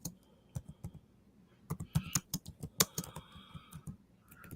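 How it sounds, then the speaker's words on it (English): A computer keyboard being typed on in uneven bursts, with clicky keystrokes close to the microphone, a few pauses between runs, and a faint tonal background hum, with no talking. "I'm just typing."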